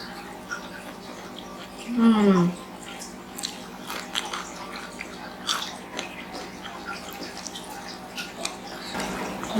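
Someone eats petai beans with sambal, with close chewing and biting sounds and a brief loud crunch early on, followed by softer mouth noises and occasional talk.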